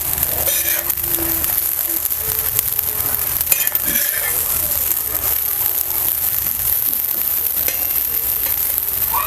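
Pav bread shallow-frying in oil on a pan for Kutchi dabeli, a steady close sizzle and crackle running throughout with a few faint clinks.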